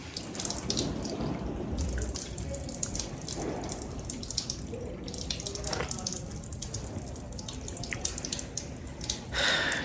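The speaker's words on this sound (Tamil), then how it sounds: "அங்கேருந்து வருது தண்ணி" Water dripping and trickling from a temple cave shrine at Chennimalai, a close, steady patter of drops with a running-water hiss that continues throughout.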